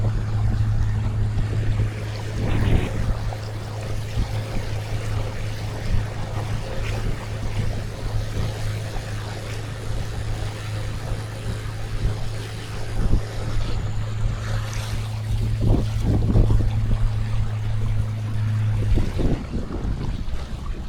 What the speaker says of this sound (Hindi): और अभी बोट पानी में जा रही है